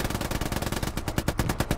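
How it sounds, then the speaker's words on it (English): Rapid machine gun cover fire in the WWII shooter Hell Let Loose, a loud, dense stream of evenly spaced shots close by with no pause, the bursts growing slightly more distinct toward the end. "I'll lay down some cover fire."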